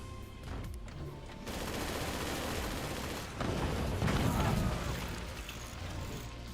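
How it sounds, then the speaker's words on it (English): In the Forts strategy game, mortar fire arrives as a dense, continuous rumble of rapid booms and crackling impacts that swells louder toward the end. "Now the mortars come back."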